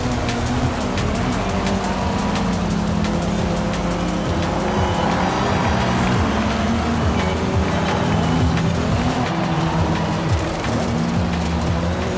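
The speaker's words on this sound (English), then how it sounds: "Just hanging on the rev limiter there." A car engine in the racing game Forza Horizon 5 held bouncing on its rev limiter, a steady, loud, buzzing drone that continues without a break, with the stuttering cut of the limiter running through it.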